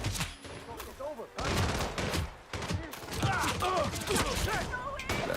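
Loud, sharp gunshots in a video game crack out in irregular clusters and rapid bursts. Brief gaps separate them, and faint voices and game effects sound in between.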